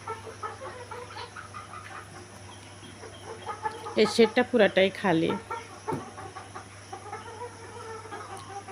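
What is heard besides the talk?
chickens clucking in farm shed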